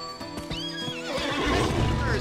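A loud horse whinny from the video game GUN rises and shakes with a hoof clop, followed by a rushing noisy burst, with a voice faintly underneath.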